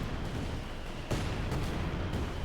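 Artillery and mortar fire in the strategy game Company of Heroes 2, with mortar tubes lobbing shells; a steady dense rumble of battle with a few sharper impacts punching through, fairly faint and continuous.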